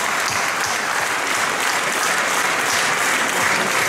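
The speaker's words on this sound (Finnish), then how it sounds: "Annetaan kunnon aplodit." Dense, steady applause from a concert audience at a shopping centre in Lempäälä, loud and continuous throughout, a broad wash of many hands clapping with no voices over it.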